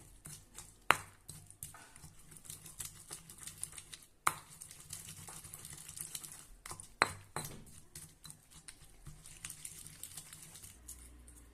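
Raw mango and onion chutney with red chili and salt being pounded by hand, a few sharp thuds standing out over a steady run of soft tapping and crushing, close and fairly quiet, with no voices.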